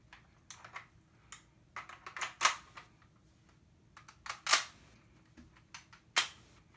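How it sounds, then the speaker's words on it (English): Metal clicks and clacks as the bolt of a King Arms M1A1 Carbine airsoft gun is pulled back, a string of close, sharp mechanical snaps and rattles, the loudest near the middle and end, with no talking. "Now I can pull the bolt back."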